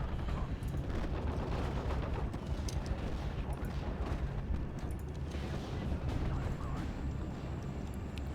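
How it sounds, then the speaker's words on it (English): Mortar and artillery fire in the WWII strategy game Steel Division: Normandy 44, a dense continuous rumble of distant explosions and gunfire with no clear pause throughout. "Mortars are taking counterfire."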